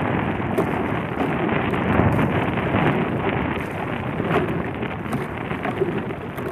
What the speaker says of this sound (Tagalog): Lakas pa rin yung hangin.